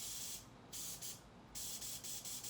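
Short hissing bursts of spray hit a face mask up close, several quick pulses in a row, fairly faint overall.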